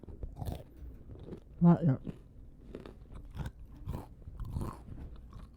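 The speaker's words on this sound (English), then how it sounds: "Let's try out that crunch." Someone bites into a crunchy snack with a filling and chews it, with a sharp crunch followed by softer chewing sounds close to the microphone, mixed with a person talking.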